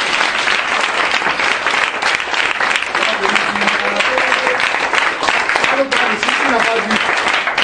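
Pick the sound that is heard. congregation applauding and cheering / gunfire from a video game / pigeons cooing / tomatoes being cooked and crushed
congregation applauding and cheering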